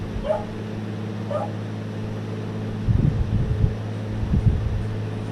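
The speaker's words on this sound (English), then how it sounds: "Apologies for the barking dog." A pet dog named Waffle yips and whimpers in short bursts a few feet from the microphone, over a steady electric fan hum indoors.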